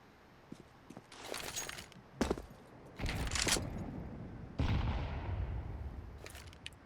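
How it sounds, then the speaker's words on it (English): Grenades and utility go off around the B site on Vertigo in a CS:GO match: scattered pops, then a few heavy bursts and rumbling blasts, fairly distant and mid-level, with no talking. "Some light nades and utility being exchanged here at the B site still"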